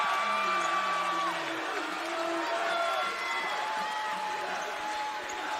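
A Chesterton crowd cheers and roars at a boys' high school basketball championship game against Valparaiso, a loud, steady wash of voices and whoops filling the gym with no break throughout.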